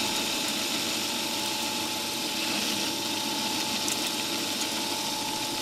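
An Atlas horizontal mill takes angle cuts on an aluminum pulley, giving a steady, even machining drone with a whirring hum, constant and moderately loud throughout, without talk.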